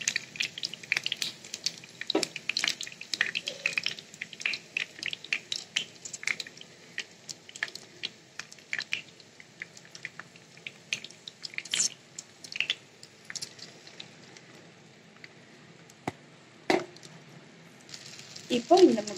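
Eggs being added bit by bit to a hot pan with capsicum for a new-style egg stir-fry, giving steady close sizzling and frying crackle with scattered stirring clicks throughout.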